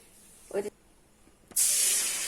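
Banana slices coated in batter for pazham pori drop into hot oil, setting off a loud, steady hiss and sizzle after a brief faint splash and a quiet voice.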